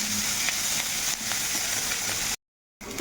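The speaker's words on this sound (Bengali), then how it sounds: "পেঁয়াজ আর কাঁচা লঙ্কাটা দিয়ে কিন্তু একটু আমি ভালো করে ভাজা ভাজা করে নেবো" Onions and green chillies fry in hot oil, giving a steady, close sizzle with faint stirring; the sizzle cuts out briefly near the end and then returns.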